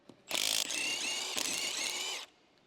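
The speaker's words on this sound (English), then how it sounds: "use a 19mm socket on the electric impact to finish removing the lug nuts" An electric impact wrench with a 19mm socket spins off a lug nut in one close, whirring burst of about two seconds with a brief hitch midway, alone without talk.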